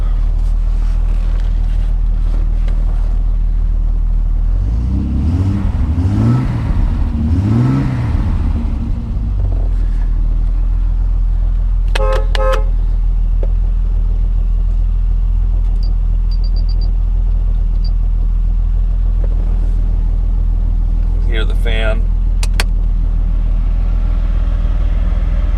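A 1968 Triumph TR250 engine idling steadily, a constant low rumble throughout, with a brief pulsing swell early on and a few light clicks and beeps over it.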